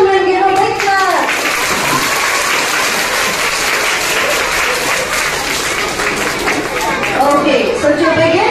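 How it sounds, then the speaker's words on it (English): Children clap in a sustained burst of applause at a school annual prize distribution, loud and continuous, with a voice speaking briefly at the start and end. "Come on, children, give a big clap."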